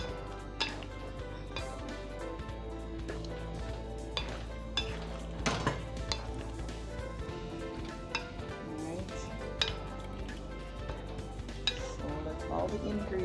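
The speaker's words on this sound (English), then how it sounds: "I'm just stirring everything in" A spoon stirs ingredients in a cooking pot over medium to low heat, with soft scraping and occasional light clinks against the pot over a low, steady background hum.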